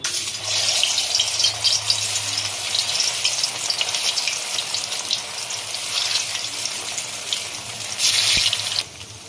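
Soybean balls fry one by one in white oil for a soybean Mughlai curry, a loud, continuous sizzle with bubbling crackle that holds steady throughout and swells briefly near the end.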